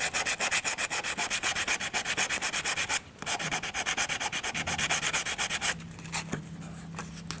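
A wooden wheel from a Ugears hurdy gurdy model kit is sanded smooth by hand with fast, regular back-and-forth rasping strokes, close and steady. The rhythm pauses briefly, then resumes before trailing off into quieter handling.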